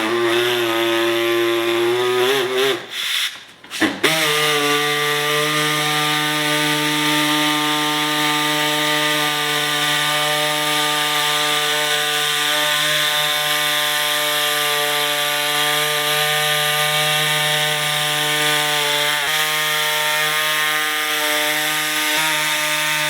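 A power saw cuts a steel bumper piece for a 2007 Chevy Suburban in a garage, giving a loud, steady, high-pitched whine that runs almost unbroken for over twenty seconds after a brief stutter near the start.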